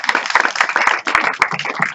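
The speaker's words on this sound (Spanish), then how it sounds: "Un aplauso, por favor." A church congregation at a Baptist service claps, giving dense, uneven applause with distinct individual claps, fairly loud and close, lasting a couple of seconds.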